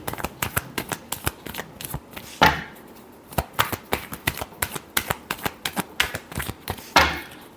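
Tarot cards being shuffled by hand, with a quick run of sharp, close riffling clicks and two heavier bridging snaps standing out partway through.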